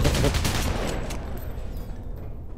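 A rapid burst of gunfire in the video game Alien Breed crackles up close, quickly fading into a decaying rumble.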